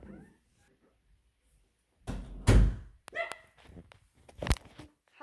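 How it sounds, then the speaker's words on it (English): Dog barking in a hospital setting, a few close, loud barks with thuds and rustling around them, no speech over it. "ignore the barking dog in a second."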